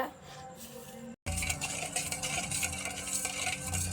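A milk, egg and sugar mixture being stirred in a bowl for sweet bread toast, with busy scraping and clinking of a utensil after a brief pause, fairly close and continuous.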